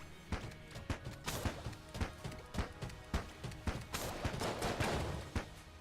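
Fossilized gun firing in the game Enter the Gungeon, a rapid, steady stream of punchy shots with crunchy impacts, dense and continuous, mixed low under game sound.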